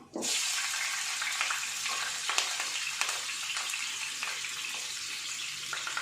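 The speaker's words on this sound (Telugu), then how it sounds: "ఇప్పుడు దీంట్లో చిల్లీస్ వేసుకుందాం." Chillies hit hot oil in a pan while making kaju chicken fry, giving a steady crackling sizzle that starts abruptly and continues evenly, close and fairly quiet, with no talking.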